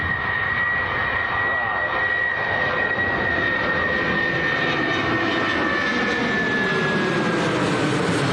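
Boeing 757 jet airliner taking off from Manchester Airport, a loud continuous engine roar with a steady high whine, close and sustained throughout, with faint voices in the background.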